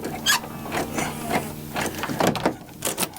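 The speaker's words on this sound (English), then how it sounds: "So now I can lock it and unlock it from the passenger side." Door lock on a 1995 VW Golf MK3 2.0L 8v actuating, a run of quiet mechanical clicks and clunks from the latch and lock mechanism, close up and fairly faint, with no talk.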